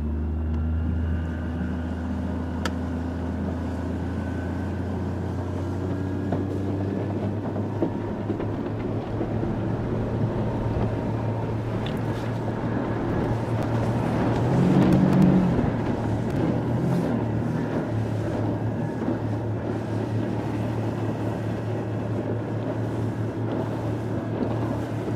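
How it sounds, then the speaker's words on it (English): Near Sofitel the Palm in Dubai, a motorboat's engine drones steadily and then surges into a louder, rougher roar around the middle as the throttle opens, before settling to a steady run. No one talks. "now I'm gonna push the throttle and you will see it take off"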